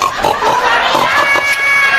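A pig grunts and squeals loudly and continuously at close range, with excited human voices mixed in underneath.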